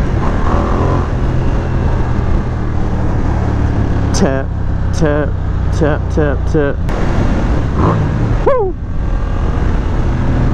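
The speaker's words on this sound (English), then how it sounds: "You hear the growl of that Ducati engine." Ducati XDiavel motorcycle engine rumbles steadily up close in traffic, a low continuous growl, while the rider speaks briefly and exclaims over it.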